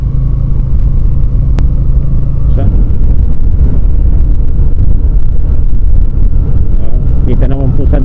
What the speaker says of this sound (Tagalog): Malakas ang hangin mga ate kuya.